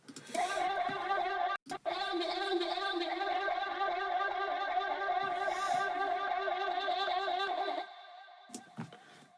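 A music production build-up with a processed, warbling synth or vocal texture that holds steady and then drops away sharply near the end, leaving brief sparse hits.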